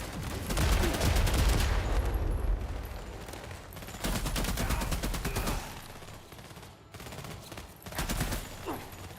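Gunfire in The Expanse: Osiris Reborn comes as dense automatic bursts, heavy and close, with the rapid volleys broken by brief pauses before the shooting picks up again.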